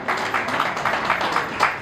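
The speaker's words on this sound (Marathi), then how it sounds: "तर मला असं वाटतं की आपल्या आईंसाठी थोड्या टाळ्या झाल्या पाहिजे." An audience claps steadily for a speaker's mother at a speech event, a dense, even wash of applause from many hands with regular rhythmic accents, close and fairly loud.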